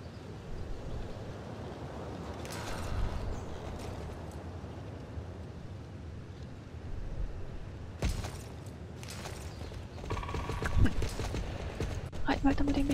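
Clip-clop of a horse's hooves ridden along a path in the game Star Stable Online, a steady trotting rhythm through the whole stretch with talk over parts of it.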